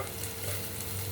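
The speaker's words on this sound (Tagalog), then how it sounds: "ito nagigisa muna ako ng sibuyas at saka kamatis" Onion and tomato sauté in a pan, giving a steady, close sizzle with soft stirring that stays even and moderately quiet through the short stretch, with no talking.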